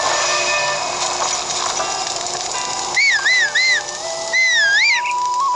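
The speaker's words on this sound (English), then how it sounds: "Now you just whistle for your horse." A melodic whistle for a horse in The Legend of Zelda: Breath of the Wild rises and falls in two short bursts, clear over a steady hum of background game ambience.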